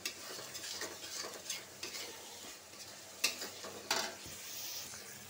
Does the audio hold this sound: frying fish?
yes